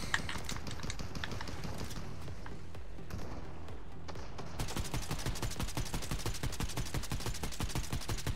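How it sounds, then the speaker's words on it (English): Fortnite gunfire starts as scattered shots over a noisy background, then turns into a steady, rapid automatic stream of evenly spaced cracks in the second half, moderately loud. "Trying to shoot at this guy."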